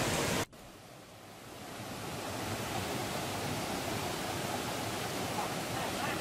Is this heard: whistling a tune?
no